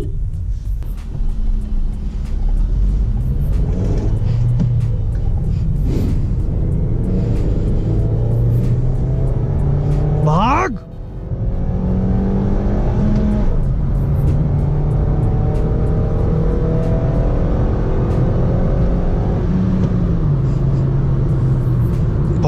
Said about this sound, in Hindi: बहुत ही स्ट्रगल करना पड़ रहा है इंजन को।